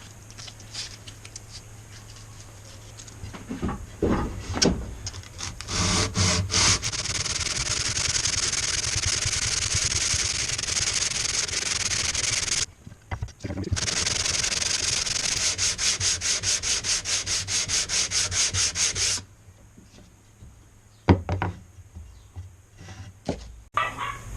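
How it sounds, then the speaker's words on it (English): Steady scratchy rubbing of 120-grit sandpaper wrapped on a plastic sanding block over wood, in long continuous strokes, close up, with brief pauses between sanding bursts. "I'm just using a piece of plastic decking board as a sanding block with some 120 paper."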